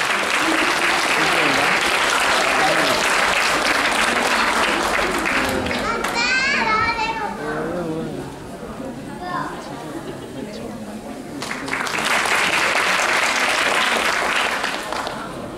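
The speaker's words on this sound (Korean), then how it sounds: "여러분 응원의 박수 부탁드리도록 하겠습니다." Applause from an audience at an outdoor festival stage during a multicultural family dance festival in Yeonggwang: dense clapping dies down to crowd chatter and children's voices, then swells again near the end.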